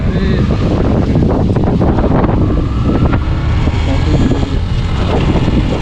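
Cold mountain wind buffets the microphone continuously near Burzil Top in the Minimarg area, a loud, rumbling roar with gusty surges throughout.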